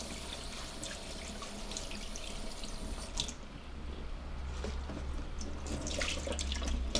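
Garden-picked beans rinsed under a running kitchen sink tap, a steady broadband rush of water falling into the basin with faint splashes and drips throughout, close and moderately loud with no talk.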